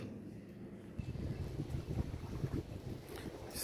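A Paşabahçe passenger ferry idles at an island pier at night, its low engine rumble and water churn steady and near, buffeted by gusts of wind across the microphone.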